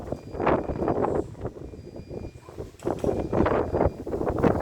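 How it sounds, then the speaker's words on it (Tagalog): Gusty storm wind roaring against the microphone in surging waves, rising and falling over a few seconds with a faint background hum. "lakas ng hangin dito"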